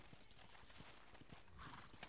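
Horse hooves clip-clop faintly and a whinny rises near the end while a rider urges the animal on in the Red Dead Redemption video game; the sounds are quiet and brief, mixed with a voice.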